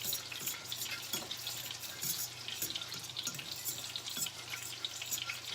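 Flour and butter sizzle steadily in a pan as a roux browns for chicken Alfredo. Soft crackling and a constant frying hiss are heard close up, with occasional stirring scrapes and no talking.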